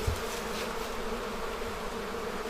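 Honeybees that swarmed off into the mountains, found near water sources and in a hole in a rock, a loud dense continuous buzzing of many bees close by, steady throughout with no voices.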